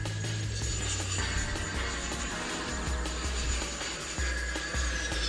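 An RC F-14 model jet flies a high-speed knife-edge pass, its turbine-like engine whine holding steady and loud for the whole stretch with no break.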